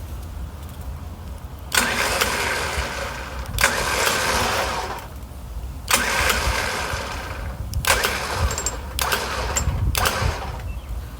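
An electric winch mounted in the receiver of a Nissan Frontier front bumper runs in several bursts of steady, loud motor whine and grind, each lasting one to two seconds with short pauses between, close by and with no voices.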